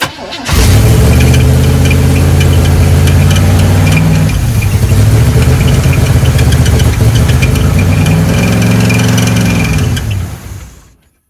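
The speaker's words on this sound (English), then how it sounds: "So why is the idle so damn high?" Engine of a 1997 Chevy Blazer, long sitting, idling high after starting: a loud, steady mid-pitched drone held close for about ten seconds before cutting off.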